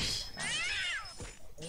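A cat meows in the Ragnarok Online video game, loud drawn-out meows with rising and falling pitch, followed by a shorter meow, slightly harsh like game sound effects.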